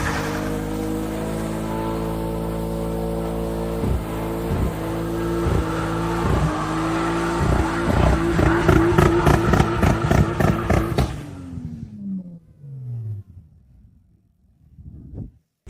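A Toyota Supra revs hard during a smoky burnout, its engine note climbing in loud, jagged bursts with rapid pulsing for about eleven seconds before cutting off abruptly, followed by a falling whine and fading clatter.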